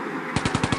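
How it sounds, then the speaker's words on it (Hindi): Rapid cartoon gunfire as a thug shoots at a van, a burst of about five loud, evenly spaced shots following a brief quiet lead-in. "बदमाश गोली चलाने लगता है।"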